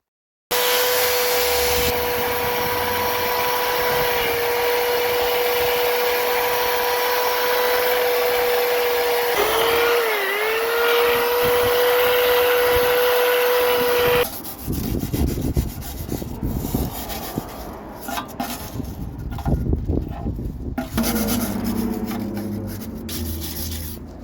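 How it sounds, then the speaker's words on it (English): A power sander grinds rust off the body of a classic Ford Fiesta, a loud steady whirring drone that wavers briefly, then turns into rougher, uneven scraping and rubbing toward the end. "Now this is hours of sanding down the bulk of the rust."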